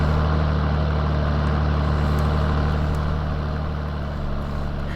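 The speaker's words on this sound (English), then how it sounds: "It's a good looking tractor, that." An old Valtra tractor idles in Farming Simulator 19, a steady low diesel rumble with a constant hum, fairly loud and unchanging for the whole stretch, with no talk.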